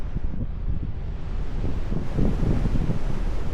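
Strong wind gusts roar steadily at an outdoor coastal castle in East Lothian, Scotland, buffeting the microphone in a loud, continuous rumble with no speech.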